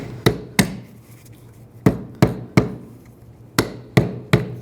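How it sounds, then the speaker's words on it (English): Hammer blows knocking a rusty rear lower shock mount base off a 2007-2013 BMW 328i, eight sharp metallic strikes coming in pairs and singles, loud and close with no talk. "Now for the base, just take a hammer, hammer this off."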